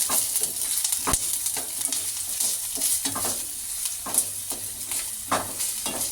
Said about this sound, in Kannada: ಈಗ ಆಯಿಲ್ ಬಿಸಿಯಾಗಿದೆ ಅದಕ್ಕೆ ಕಟ್ ಮಾಡಿರೋಂಥ ಈರುಳ್ಳಿನ ಸೇರಿಸ್ಕೊಳ್ತಾ ಇದ್ದೀನಿ ಈಗ ಇದನ್ನೆಲ್ಲ ಚೆನ್ನಾಗಿ ಫ್ರೈ ಮಾಡ್ಕೊಳ್ಳೋಣ